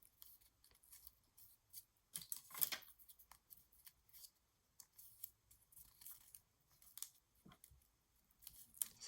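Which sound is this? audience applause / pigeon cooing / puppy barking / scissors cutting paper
scissors cutting paper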